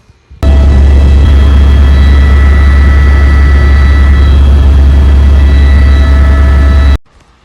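Helicopter in flight on the Kedarnath yatra route, heard from inside the cabin as a loud, steady low engine and rotor roar that starts abruptly and cuts off near the end.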